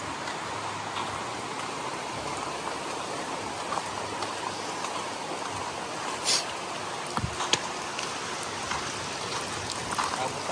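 Steady rain falls on a road in Dingalan, Aurora, a dense even hiss of drops that holds throughout, with a few brief sharper taps close by.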